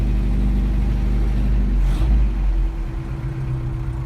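Engine of a 1981 Toyota running steadily and loud, a continuous low rumble with a brief rise in revs near the middle before settling back toward idle.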